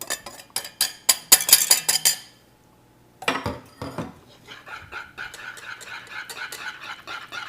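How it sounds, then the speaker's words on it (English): A whisk clinks rapidly against a bowl, beating powdered sugar into melted butter, milk, cocoa and vanilla for a Texas sheet cake frosting; a burst of quick metallic taps, a short pause, then steadier scraping swirls close by. "Whisk this in together"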